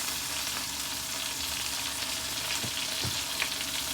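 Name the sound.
greens frying in grapeseed olive oil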